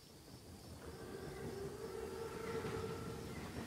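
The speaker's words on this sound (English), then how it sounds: "Train's right on time." An armored German Panzerzug train rolls in during a World War II shooter game, a steady low rumble with a faint sustained whistle-like tone swelling gradually and holding, heard alone at a moderate distance.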